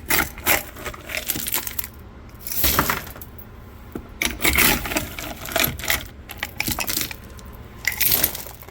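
Tumbled rocks are poured and shifted into a container in several bursts of clattering, clinking stone-on-stone and stone-on-container impacts, close by, with brief pauses between pours.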